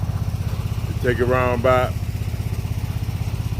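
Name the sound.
Snapper Pro 48-inch zero-turn lawn mower engine running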